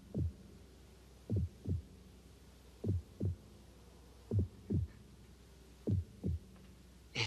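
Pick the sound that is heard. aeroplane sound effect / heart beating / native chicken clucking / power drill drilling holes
heart beating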